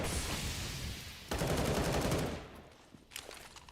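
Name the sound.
grenade explosion and gunfire in the video game CS:GO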